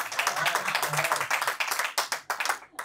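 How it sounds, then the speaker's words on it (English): An audience at a standup comedy show at The Monkey House claps, a dense burst of close applause that thins into scattered individual claps before stopping. "round of applause"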